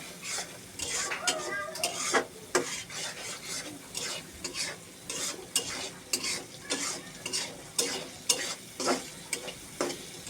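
Egg noodles being stirred in a pan, with repeated brisk scrapes and clinks of a utensil against metal over a light sizzle, close and continuous without talk.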